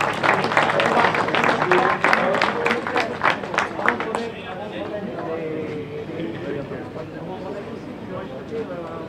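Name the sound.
audience applauding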